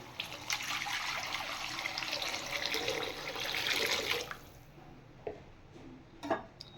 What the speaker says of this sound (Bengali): এবার আমি পরিমাণ মতো জল দিয়ে দিচ্ছি